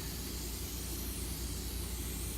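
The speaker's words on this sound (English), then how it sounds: "I want to see if I can spray it off real quick." Water sprays onto an aluminum oxide sharpening stone in a continuous, close, hissing rush that holds steady without pause, with no voices.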